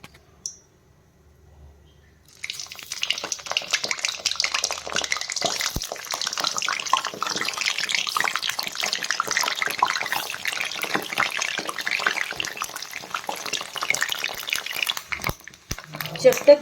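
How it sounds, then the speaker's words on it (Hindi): Small eggplants deep frying in a pot of hot oil, giving a steady, dense crackling sizzle that starts abruptly after a quiet moment and continues evenly to the end. "ऑयल को हम गर्म करके अब इसमें हम बैगन को, जो छोटे वाले बैगन है, उसको हम डीप फ्राई करेंगे"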